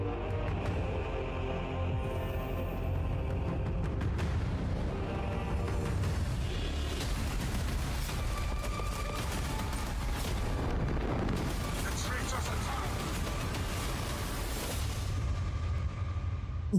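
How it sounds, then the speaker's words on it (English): Bolt guns firing in the Tower of Fantasy video game, a dense run of booming, bursting shots that stays loud and continuous over a thick game soundtrack throughout. "The bolt guns sound good."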